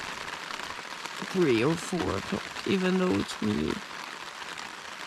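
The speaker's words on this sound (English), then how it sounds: "It's raining" Steady rain hisses outdoors on an early, cold morning during a canoe expedition across Sweden, a broad constant patter running beneath a voice talking close by.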